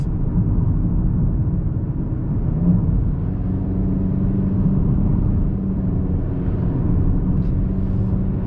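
A 2020 Kia Optima FE pulls up a steep hill under throttle, its engine a steady low rumble blended with road and cabin noise, continuous and fairly loud with no talking.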